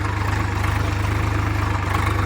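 A Swaraj 744 XT tractor pulling a rotavator through hard, dry farm soil runs with a loud, steady diesel throb. The low engine pulse stays close and even throughout, with no voices.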